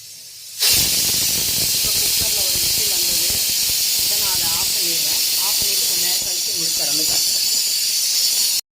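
Pressure cooker with its weight on, cooking aviyal vegetables, releasing a loud continuous hiss of steam that runs unbroken and close, with faint voices underneath.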